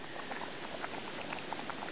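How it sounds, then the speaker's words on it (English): Water at a strong rolling boil in a pot on a camp stove in a rainy, swampy state park campsite, steady bubbling and popping close by with no one talking. "we got a good boil going there"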